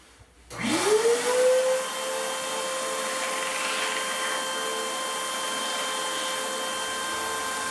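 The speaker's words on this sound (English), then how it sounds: "I switched to a 320 grit belt, and I'll smooth this out a little bit" A belt sander fitted with a 320 grit belt smooths a kydex sheath for a Mora Pro Robust knife. The motor starts after half a second, spins up to a steady, close, high whine and runs on without pause.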